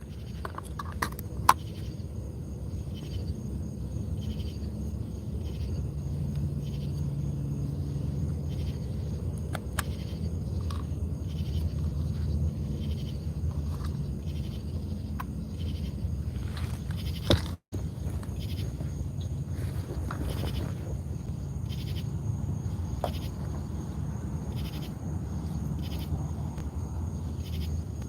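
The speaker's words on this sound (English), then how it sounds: "but the loudest ones that I'm hearing right now are like crickets." Crickets chirp at night outdoors with cicadas in the background, a steady high pulsing chorus over a low rumbling ambience, with brief clicks and one short dropout partway through.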